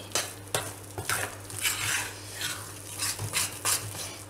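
Gram flour roasting in a pan for laddoos is stirred with a spoon in quick scraping strokes against the metal, with a soft sizzle underneath, close and fairly quiet, with no voices.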